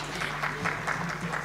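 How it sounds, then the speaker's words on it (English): Audience clapping at an insurtech summit in Mumbai after a presentation, a steady burst of hand claps filling the hall at moderate volume. "let's give a round of applause for Mr. Pramod Kumar as well"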